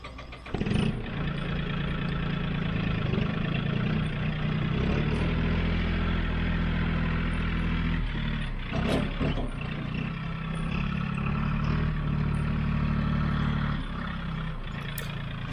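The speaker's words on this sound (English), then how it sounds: "So all I'm really doing here is flattening and leveling the ground. I've got the box blade on there obviously" A Mahindra 1635L tractor pulling a box blade to level ground runs with a loud, steady diesel drone throughout, with a few brief clanks and scrapes around the middle.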